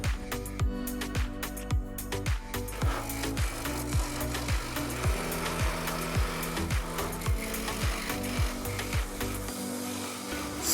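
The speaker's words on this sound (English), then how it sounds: "cutting on my DeWalt scroll saw" A DeWalt scroll saw with a number 5 blade buzzes steadily through thick wood, its blade chattering in a fast, even rhythm of rasping strokes, close and moderately loud with no talking.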